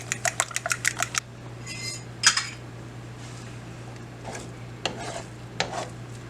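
Four eggs scrambled in a pan with sausage: a quick run of rapid whisking clicks, then softer scrapes and occasional taps of a utensil against the pan over a faint steady hum.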